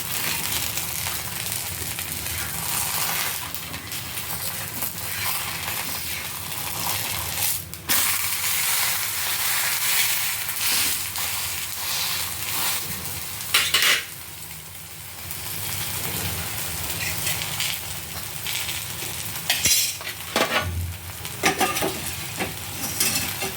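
Pesarattu frying in oil on a hot pan, a continuous crackling sizzle with scraping and knocks as the spatula flips it, then fresh bursts of sizzle where more oil is added.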